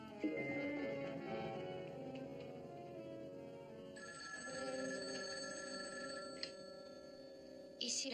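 A telephone rings in repeated electronic bursts, fairly faint, with a pause between rings and a tonal hum underneath.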